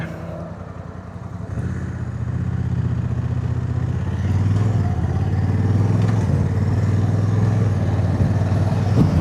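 A Honda Africa Twin motorcycle engine drones steadily underneath the rider while on the move, its note shifting with gear changes and faint mechanical clanking mixed into the loud, constant rumble.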